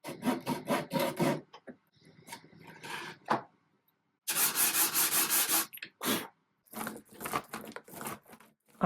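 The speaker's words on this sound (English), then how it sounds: "I'm using my Japanese pull saw to cut these notches" A Japanese pull saw cuts notches in a wooden cupboard part with bursts of quick rasping strokes, loud and close, separated by short pauses.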